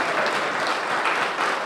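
An audience at the reopening of a San Francisco visitor information center gives a speaker a round of applause, with dense, steady clapping throughout.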